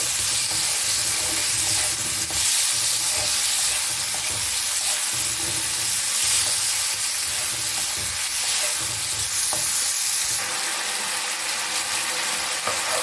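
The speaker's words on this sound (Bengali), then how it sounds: "মাছটা ভাজা হয়ে গেছে, বেশি ভাজা যাবে না, তাহলে মাছটা শক্ত হয়ে যাবে।" Shrimp frying in a pan in hot oil for a jackfruit-and-shrimp curry produce a loud, continuous close-up sizzle with spattering crackles that holds steady throughout, with no talking.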